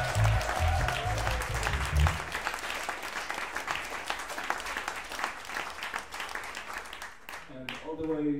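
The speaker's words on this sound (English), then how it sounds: "I'd like to invite you again to give a super big applause" Audience applause at a London Jazz Festival 2018 concert, a dense wash of clapping that swells loudly at the start, stays steady for several seconds, then fades out near the end.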